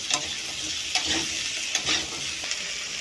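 Chara pona fish pieces frying in a pan, giving a continuous close sizzle with a few soft, evenly spaced stirring clicks over three seconds.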